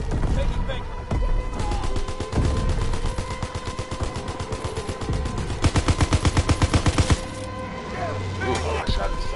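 Rapid video game gunfire rattles in long automatic bursts, loud and continuous, with a few single cracks and a voice talking under the shooting.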